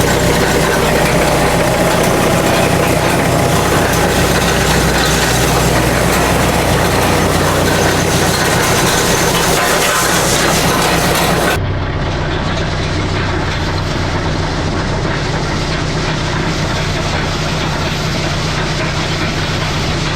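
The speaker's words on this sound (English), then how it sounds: "you can see my box blade is riding on the ground, so it will do some cutting" A tractor pulls a box blade along a long gravel driveway, its engine droning loud and steady close by over grinding, rumbling noise from the blade and gravel.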